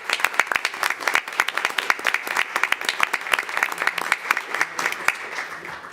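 Audience members at a Weslaco school board meeting give a round of applause, with many distinct, uneven hand claps rattling close and loud for several seconds.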